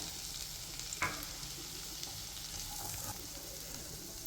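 Steady broadband sizzle of vegetables, including bell pepper, frying in a pan, with a sharp clatter of stirring near the start and faint scraping later.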